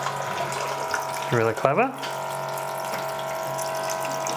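Water running into a LetPot hydroponic garden tank as it fills itself in automatic mode, a steady low trickling wash under the whole stretch while a person speaks briefly in the middle.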